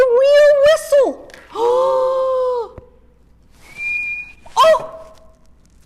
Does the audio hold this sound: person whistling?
yes